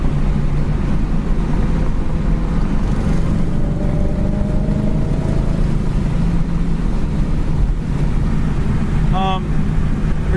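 A 1969 AMC AMX cruising down the road at 60 mph with the engine near 2,700 rpm, giving a steady, loud rumble of engine and road noise throughout with a brief tonal squeal near the end.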